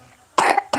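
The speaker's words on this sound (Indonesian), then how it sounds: "aku batuk" A person coughs during a live gaming stream, two loud, close coughs after a quiet moment, the second cut off at the end.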